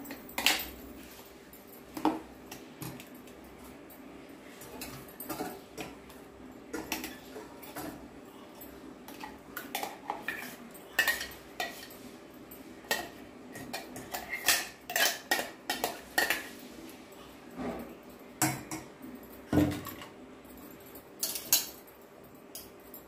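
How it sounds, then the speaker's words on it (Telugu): Bowls and utensils clink and scrape irregularly up close as tomato-coriander chutney is transferred into another bowl, with scattered sharp clatters of metal against dishes and no talking. "ఇదంతా వేరే గిన్నెలో వేసుకుందాం."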